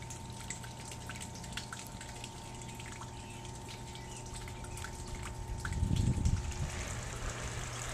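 A pump draws overnight rainwater out of a garden pond during enlargement work. It gives a faint, steady hum with soft trickling water, distant and low, and swells briefly louder near the end.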